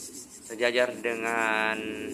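Close-up scraping and rasping of a blade cutting through a hard car battery terminal, a few rough strokes followed by a steadier grinding pass.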